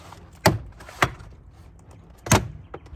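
Plastic trim clips popping loose as a trim tool pries the door panel off a 2018-24 Toyota Camry: three sharp, close snaps spaced apart, with light handling rustle between them.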